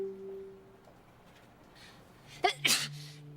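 A person gives a single abrupt sneeze near the end, sharp and moderately close after a few quiet seconds with faint background tones and low murmur.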